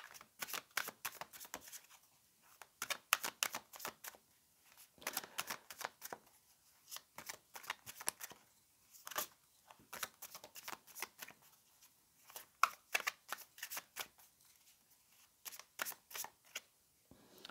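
Tarot cards are shuffled again and again in quick, crisp riffling bursts separated by short pauses, close and fairly quiet, with no voices.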